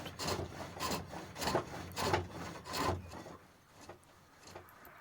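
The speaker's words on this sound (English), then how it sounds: "Notice how the sound of the chisel changes just a little bit as it starts to take longer and longer shavings" A chisel cuts hawthorn wood on a pole lathe in rhythmic rasping strokes, about five strong scrapes in quick succession. Fainter, softer cuts follow as the shavings lengthen, close and clear with no talk.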